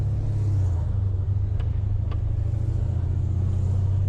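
V6 Dodge Challenger driving nearby in city traffic, a steady low engine rumble held throughout with faint road hiss and a couple of brief ticks.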